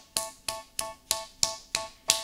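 Seven sharp hand claps land at an even, steady pace, each crisp and close with a short ring, and nothing else is heard between them.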